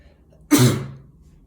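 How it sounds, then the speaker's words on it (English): A single sharp sneeze bursts out close by, loud at first and trailing off quickly, with quiet before and after. "I have to sneeze"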